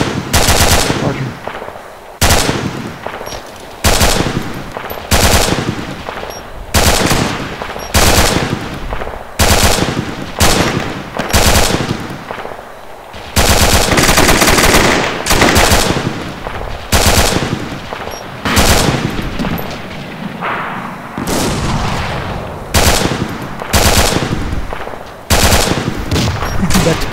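Dense gunfire in the Arma 2 military shooter during a night co-op battle near a BMP-2 armored vehicle, with repeated machine-gun bursts and sharp shots from several directions, loud and nearly continuous, with occasional radio-style voices.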